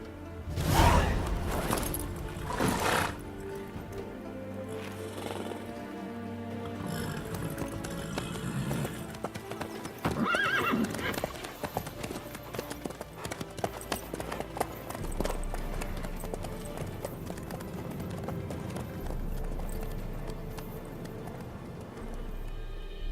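Hooves clip-clop in a steady gallop from a horse in The Witcher 3: Wild Hunt, running continuously at moderate loudness beneath game music and ambience, with whooshing movement sounds; no clear neigh stands out.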